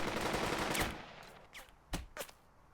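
Gunfire in the WW2 leadership game Burden of Command: a loud sustained burst of machine-gun fire fades out, followed by a few scattered single shots at a distance.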